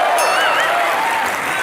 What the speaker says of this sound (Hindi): एक बार मान साहब के लिए जोरदार तालियां।